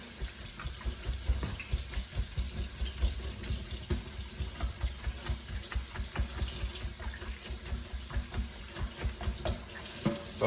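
Water runs continuously from a tap while rinsing a paint brush, splashing and gurgling in a steady stream, close and fairly quiet.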